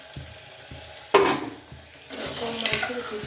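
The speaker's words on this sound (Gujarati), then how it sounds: "ચાલો હવે શાક હલાવી લઈએ." Vegetable curry cooked in ghee gets stirred in a pan, with soft regular scraping taps and two bursts of louder sizzle as the contents are moved, nearby with no voices.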